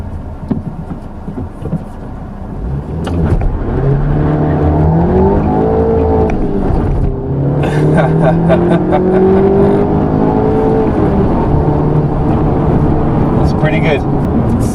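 A 2016 Audi TT launching hard from a standstill, its engine revving up through rising, strained sweeps with a brief gear-change dip. The roar is loud and close, heard from inside the car.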